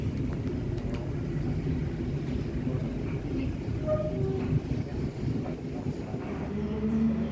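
Kamandaka passenger train running on the Semarang–Cilacap line, heard from inside the quiet restaurant car: a steady, loud low rumble and rattle of the carriage in motion throughout, with no one talking.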